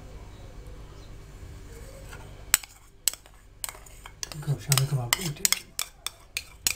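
Shami kabab batter is mixed in a bowl, with quiet background hum at first, then a string of clinks and scrapes of a utensil against the bowl plus soft squelching, close and uneven.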